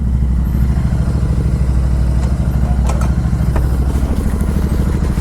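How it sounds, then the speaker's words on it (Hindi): A Royal Enfield Continental GT 650 motorcycle with an aftermarket exhaust, air filter and iridium spark plugs rumbles loudly up close at a steady idle, with a deep pulsing throb and faint clatter throughout. "तो काफ़ी लाउड हो गया है यार अपना बाइक।"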